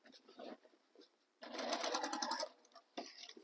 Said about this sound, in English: I'm just stitching all the way around, going with the seam allowance